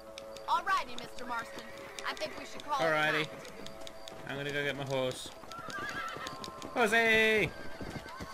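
A horse in the Red Dead Redemption video game neighs and whinnies several times in loud, shrill bursts, with clip-clop hoofbeats and other game sounds around the calls.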